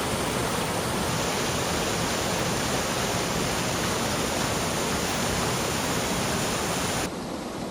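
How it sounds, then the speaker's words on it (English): Loud, steady roar of a waterfall in nearly full flow at Mapsie Den on the Falkland estate, Scotland, broadband rushing water filling the scene without a break, cutting off abruptly near the end. "this is what the waterfall looks like in nearly full flow"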